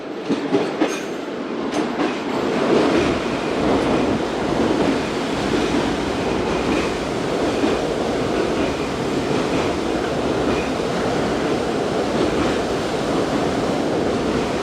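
Fast-flowing Indus river water at Taunsa Barrage, heard from a shuttle train on the Multan to Dera Ghazi Khan line, makes a steady, loud, dense rush that holds evenly throughout with no talking.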